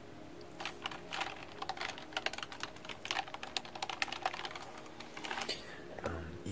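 Fingers type on a computer keyboard resting on a desk, with rapid, uneven clicks and clacks close to the mic. Someone speaks softly underneath.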